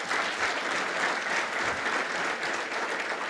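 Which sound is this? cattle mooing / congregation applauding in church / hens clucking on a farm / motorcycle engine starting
congregation applauding in church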